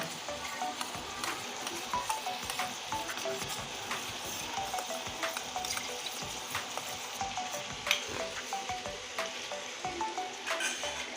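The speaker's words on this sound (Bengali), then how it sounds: "পরিমাণ মতো জল দিয়ে দিচ্ছি সুন্দর করে আমি গুলিয়ে নিব" Rice-flour slurry stirred in a pan of sizzling potato and pointed gourd curry with fish head, a steady crackling fry with soft scraping strokes running throughout, close and moderately loud.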